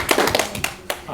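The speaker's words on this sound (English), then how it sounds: "Let's give Rachel O'Reilly a massive round of applause." A small studio audience on a numbers-and-words quiz show applauds contestant Rachel O'Reilly, giving a brief burst of sharp, separate hand claps close by, sparse and uneven rather than a full roar.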